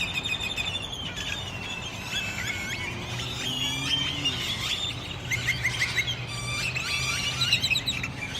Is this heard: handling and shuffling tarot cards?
no